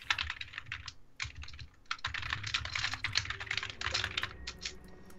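Rapid keyboard typing sound effect from the video game Pocket Mirror, a dense run of close, crisp clicks with two short pauses and a low hum beneath, no voices.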